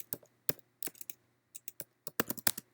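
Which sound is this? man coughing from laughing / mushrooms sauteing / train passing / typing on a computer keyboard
typing on a computer keyboard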